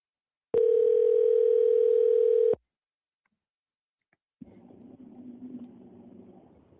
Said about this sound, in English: Let's give them a ring.